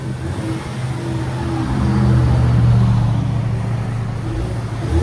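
Ford Mustang EcoBoost convertible on its stock exhaust, running with a steady low engine drone that swells into a louder rev around the middle before easing back, heard fairly close with no talking.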